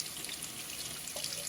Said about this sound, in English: And just run the hot water through.